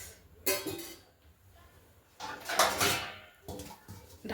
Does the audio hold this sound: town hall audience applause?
no